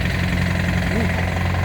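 A reefer unit diesel engine runs loudly and close, a steady low throbbing rumble with a brief rising and falling whine partway through.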